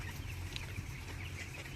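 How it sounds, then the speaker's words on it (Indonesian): Broiler chickens in a grower-phase coop, a low continuous murmur of clucking from many birds under a steady hum, faint and unbroken. "ayam broiler atau yang biasa kita sebut ayam berdaging ini dipelihara di kandang ini"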